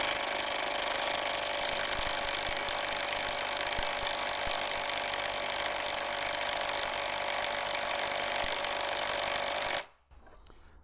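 An Ingco cordless impact wrench hammers continuously on a nut it is trying to loosen, a loud, steady buzzing rattle that cuts off abruptly near the end.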